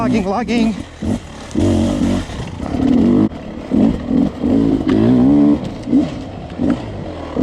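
A 2020 Beta 300RR Race Edition dirt bike engine lugs in second gear on a track, giving a loud, uneven low burble that surges and dips, with a rider's voice mixed in.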